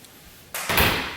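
A back door in a renovated Washington DC house is opened, a quiet moment followed by a sudden loud whoosh and a brief heavy slam or rattle, close by and without talk.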